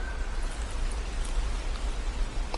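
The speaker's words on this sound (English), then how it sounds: "you may hear the raindrops on the roof" Steady rain patters on a roof in a soft, even wash of drops, continuous and moderately quiet with no voices over it during a calm indoor meditation session.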